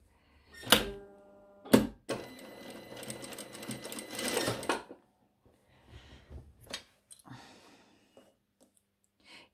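A sewing machine runs a seam on a shirt in one steady, rapid mechanical whir of about three seconds, preceded by a couple of sharp clunks and followed by quieter handling clicks and knocks.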